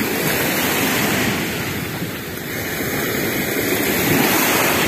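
Sea waves wash continuously onto the beach at Lazarevskoye in October, a steady, loud roar of surf that swells and dips slightly without any voices.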